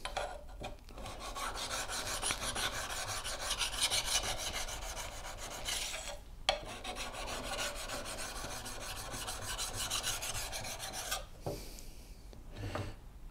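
A draw knife is pushed in long, steady rasping strokes across the coarse India side of a sharpening stone, with a brief pause around the middle and a quieter break near the end. No one speaks.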